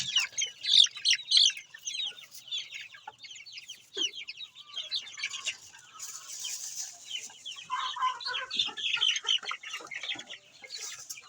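Chicks in a coop, a dense chorus of high peeping and chirping that continues throughout, with some lower clucking calls partway through.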